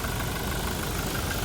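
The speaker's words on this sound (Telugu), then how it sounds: "ఇంజన్ సౌండ్ మాత్రం ఇట్లా ఉంది" A 2017 Toyota Innova Crysta 2.4G diesel idles steadily, a close, even, low mechanical rumble with no talk over it.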